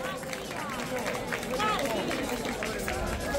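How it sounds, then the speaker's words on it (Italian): A crowd applauds a junior football team, Follonica Gavorrano's national youth squad, as it is presented on stage, a steady wash of clapping and murmur throughout. "Grande applauso qua sul palco"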